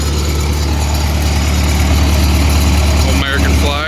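A Lincoln SA-200 welder's engine idles at low speed with a steady, loud, close-up drone and a faint high whine near the end; no one speaks.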